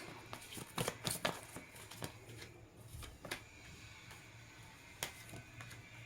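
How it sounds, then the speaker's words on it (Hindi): Tarot cards drawn and laid out from a deck during a reading, heard as scattered soft card flicks and slaps, a few louder ones near the start and middle, over a quiet room hum with no talking. "मैं सारे कार्ड्स निकाल लेती हूँ"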